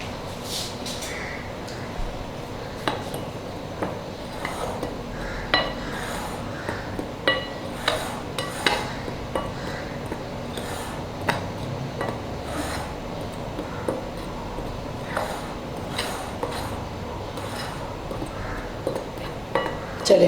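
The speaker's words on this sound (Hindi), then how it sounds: "तो इसको हम करेंगे मिक्स।" Chicken being mixed by hand in a bowl with soy sauce, chili sauce and salt for a marinade: soft wet rubbing with scattered light clinks against the bowl, fairly quiet and close.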